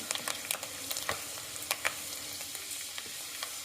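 Finely chopped garlic fries in a pan for a prawn ghee roast, giving a steady quiet sizzle with small crackles and pops and no talking.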